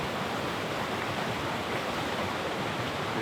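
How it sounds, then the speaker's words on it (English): A waterfall outdoors, a continuous broadband rush of falling water, loud and unbroken with no other sounds over it. "And this is quite nice waterfall"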